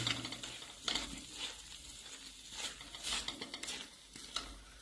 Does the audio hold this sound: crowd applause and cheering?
no